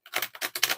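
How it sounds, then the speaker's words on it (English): A stiff, year-old deck of tarot cards being shuffled, giving four quick crisp riffling bursts close to the microphone with no talk. "These cards are always stiff to shuffle."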